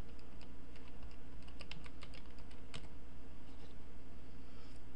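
Computer keyboard keys clack in quick, uneven bursts as a web address is typed into a browser search bar, close and fairly quiet over a steady low hum, with no talking.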